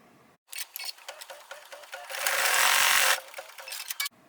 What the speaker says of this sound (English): we're going to stitch the white mug placement line